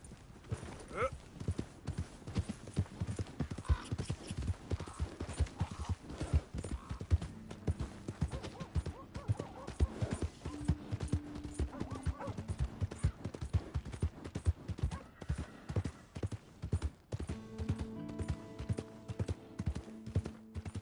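A horse's hooves clip-clop in Red Dead Redemption 2, a steady, fairly faint walking rhythm that runs throughout, with occasional soft background tones.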